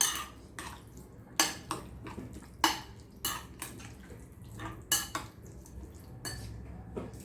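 Curd being mixed into beetroot pachadi, a spoon clinking and scraping against a bowl in irregular sharp strokes, close and fairly quiet with brief wet pauses between.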